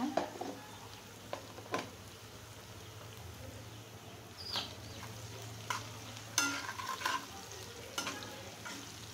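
Softened onion frying in a pan while a spatula stirs it, a faint low sizzle broken by sharp intermittent scraping and clinking strokes.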